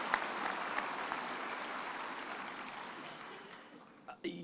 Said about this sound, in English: I think we should give at least a hand of applause to those that fall in that